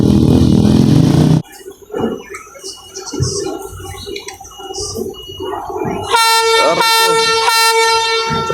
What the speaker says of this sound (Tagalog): Lakas pa naman ang busina niya ni Natasha.